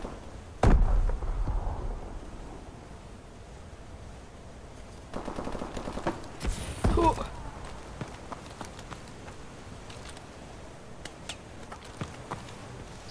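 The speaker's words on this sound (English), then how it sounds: "Somebody's shooting at me." Gunfire in Call of Duty Advanced Warfare: a sharp nearby shot opens, then rattling bursts of automatic fire and scattered distant cracks follow over a low battlefield rumble.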